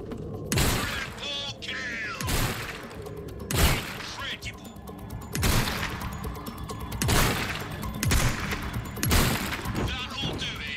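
In Resident Evil 4 Remake, a gun fires heavy, booming shots at a slow, steady pace, about seven over ten seconds, each shot followed by clanking mechanical noise and some speech in the background.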